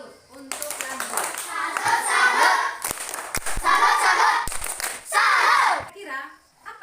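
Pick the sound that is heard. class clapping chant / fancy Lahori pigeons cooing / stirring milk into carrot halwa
class clapping chant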